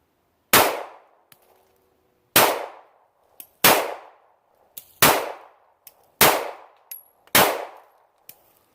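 Six sharp, loud Glock 43 pistol shots are fired slowly at a range, each about a second or more apart, each followed by a short ringing decay.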